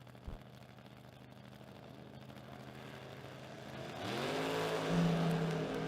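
A Mustang and a Camaro leaving the line at a drag racing event, a low idle rumble building into loud engine roar and acceleration partway through, heard from trackside at a moderate distance.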